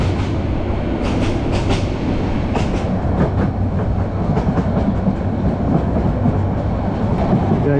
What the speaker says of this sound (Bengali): ট্রেনের গতি এখন কিছুটা বাড়িয়ে দিয়েছে, মাঝখানে একটু কম ছিল।